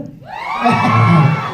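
An audience at a stage event about the film Laut Tengah bursts into loud shouting and cheering, with rising whoops swelling after a brief quiet start and holding strong to the end.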